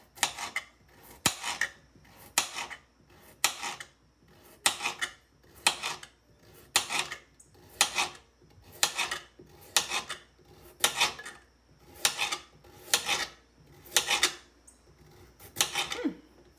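A knife slices carrots into thin rounds on a board, about seventeen crisp, evenly paced chops roughly one per second, close and fairly quiet with no talking.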